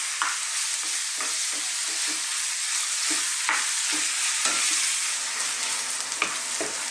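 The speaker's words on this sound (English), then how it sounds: "our beef is browning nicely" Beef browns in a pan over medium heat with a constant, even sizzle, broken by frequent short scrapes and clatters of stirring.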